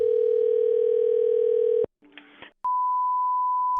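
A telephone line while calling a coin shop: a steady dial tone holds for nearly two seconds, then a brief burst of dialing tones, followed by another long single-pitched tone, loud and close with no talking.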